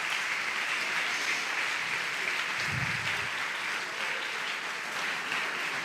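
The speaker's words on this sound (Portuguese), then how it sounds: "aplauda, por favor." Sustained applause from a large crowd at a church homily, a dense steady patter of many hands clapping throughout, fairly distant and even.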